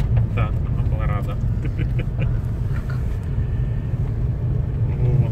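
A car travels along a road in a spring mountain setting, heard from inside as a steady low rumble of engine and tires, with people chatting over it.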